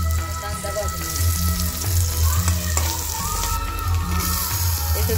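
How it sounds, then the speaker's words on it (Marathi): Chopped onion sizzling and frying steadily in a hot pan for Puneri misal, a close, continuous crackle with occasional stirring scrapes and no talking. "कांदा भाजून घेऊया"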